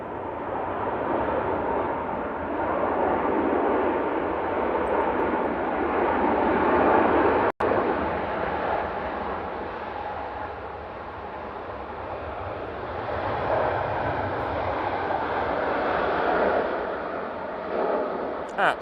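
A large jet airliner lands at Manchester Airport during Storm Amy, a sustained broadband roar of engines and wind that swells and holds across the whole stretch, loud and continuous, with a brief sharp dropout partway through.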